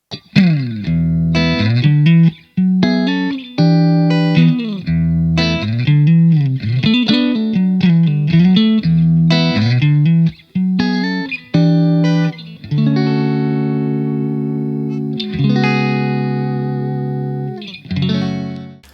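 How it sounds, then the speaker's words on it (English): Clean electric guitar played through a Fender Super Reverb tube amp, picked chords and single notes ringing with warm sustain, ending on a long held chord. "what you just heard was my basic clean tone coming from my Fender Super Reverb"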